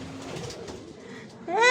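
Racing pigeons at a loft in Pilar, Sorsogon coo in low soft throaty bursts close by, with a brief higher bright call at the end.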